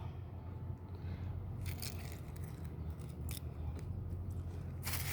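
A knife cuts the bottom fin off a cleaned fish: a few short, crisp scraping cuts come up close, spaced apart over a steady low background hum.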